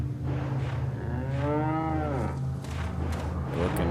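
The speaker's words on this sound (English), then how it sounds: "Alright, cow." A cow in the video game Resident Evil 4 lets out a long, loud, drawn-out moo over steady background game ambience, with a shorter lowing call following near the end.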